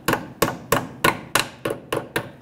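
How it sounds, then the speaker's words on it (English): Eight evenly spaced metal taps ring out as a hammer drives a brake hose horseshoe clip into place on a 2006-2012 Toyota RAV4, each strike crisp and close with a short decay. "or you can just use your hammer."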